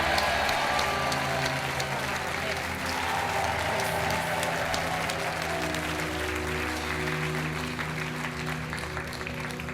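A TV game show studio audience applauds the departing contestants on Money Drop, a loud, sustained roar of clapping lasting nearly ten seconds over steady background music.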